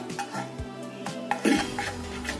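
Sugar and jaggery caramel being poured over dry fruits for plum cake: soft clinks and scrapes of a utensil against a pan, with light stirring and a sharper clatter near the end, close and fairly quiet.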